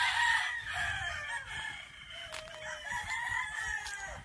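A farm rooster crows loudly and close by in a single drawn-out call, with chicken clucks and other fowl noises around it.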